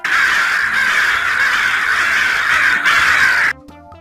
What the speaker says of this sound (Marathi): कावळ्याच्या या आवाजाला काव काव म्हणतात